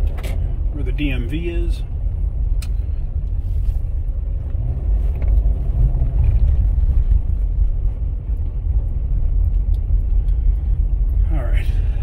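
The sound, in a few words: car pulling over into a parking lot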